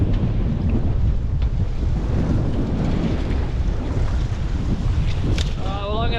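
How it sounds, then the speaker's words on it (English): Gusty wind roars steadily across the microphone on a boat at sea off Perth, with waves sloshing and faint engine-like tones rising near the end. "it's pretty windy and horrible out here"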